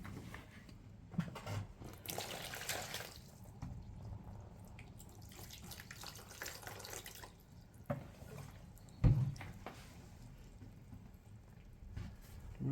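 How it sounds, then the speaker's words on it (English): Water being added to a tray of growing microgreens, with soft trickling and dripping like a tap running, steady and close, plus a few small knocks and handling sounds. "I think it needs more water again."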